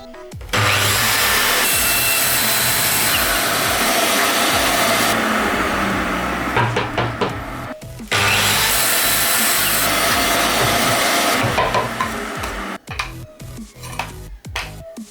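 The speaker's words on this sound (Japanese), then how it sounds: "20センチの幅で1列カットしてしまって20センチの長さでまた切って、2枚作ってしまおうかなと思います" A power saw rips through shina plywood boards in two long, loud continuous cuts, with a brief pause between them and some scraping and handling of the boards at the end; no one speaks.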